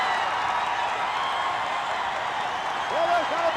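A packed pro wrestling arena crowd cheers and claps in a steady, loud roar that fills the space, with a commentator speaking over it near the end.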